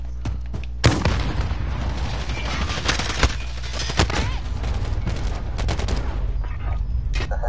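A rocket blast and rapid gunfire fill a first-person shooter video game match, with sharp booming impacts around the second and fourth seconds over sustained, dense crackling bursts of automatic fire throughout.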